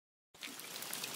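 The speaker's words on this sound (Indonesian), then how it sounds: "Hurray, dah hujan." Rain starts falling abruptly after a brief silence, a steady faint patter and hiss of drops that holds evenly to the end.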